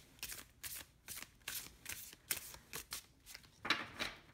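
A deck of tarot cards is shuffled close by, a quiet series of quick riffling bursts about every half second, with no talking over it.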